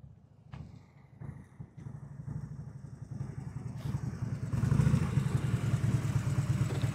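Motorcycle rolling at slow speed during a riding skills practice session, its engine a steady low rumble with some clatter that grows louder as it approaches, no talk.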